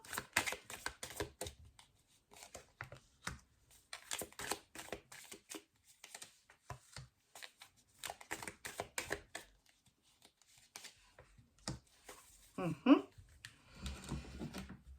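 Tarot cards being shuffled and laid out during a reading, producing clustered bursts of soft riffling and slapping card sounds with short pauses between them, close and moderately quiet.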